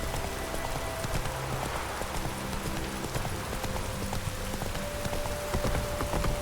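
Steady rain falls in The Witcher 3 game world, a dense constant patter with horse hooves clip-clopping underneath throughout.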